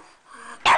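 A dog barks once, a short sharp bark at the very end after a soft, quiet whine-like stretch, close and fairly loud.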